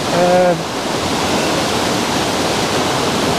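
A hillside waterfall roars in a steady, dense wash of rushing water, loud and close; a brief voice touches the very start before the torrent continues alone.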